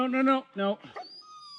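A dog whines in high, tight bursts while tied up at a winter camp, three quick whimpers then a thin sustained tone, close and moderately loud.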